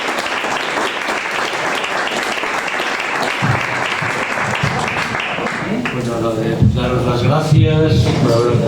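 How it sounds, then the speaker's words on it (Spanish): An audience at the presentation of the book Segell at the Casa de Asturias gives sustained, close applause for about six seconds, then the clapping thins out as voices and chatter take over. "de nuevo un aplauso para vosotros"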